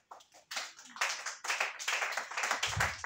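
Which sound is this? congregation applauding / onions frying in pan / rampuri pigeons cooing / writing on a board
congregation applauding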